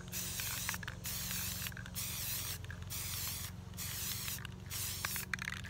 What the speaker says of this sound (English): I'm going to see if I can spray paint this.